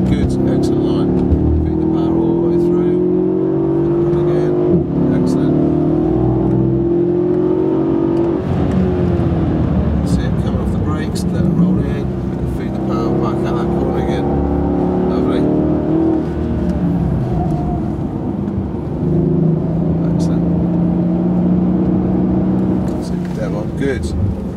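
A Mercedes-Benz E64 AMG driven on a track, its engine droning steadily and rising and falling through corners and braking, with an instructor talking over it throughout.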